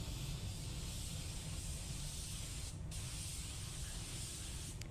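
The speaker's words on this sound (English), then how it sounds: "So here I am using some Capsy clear coat." A spray gun laying down automotive clear coat, a continuous steady hiss of atomised spray, close and even throughout with a brief pause near the end, no voices.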